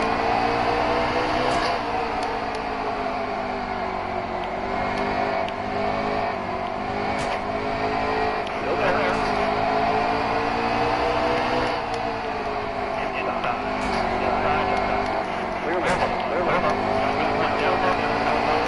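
Stock cars race at Bristol in the Miller Lite Cup Series, a dense, unbroken engine roar with revving and cars sweeping by, loud throughout, with commentary voices mixed into the din.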